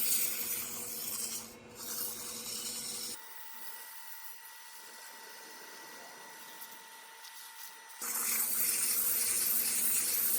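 Wood-turned tea light holder sanded through successive grits on a lathe, a steady close rasping rub that drops to a quieter, thinner whir midway before the full abrasive hiss returns.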